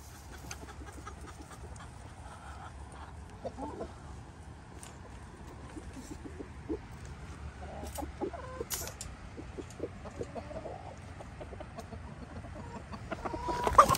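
A rooster being caught to move it into a breeding pen gives quiet, scattered clucks over shuffling and rustling. The activity grows louder and busier toward the end.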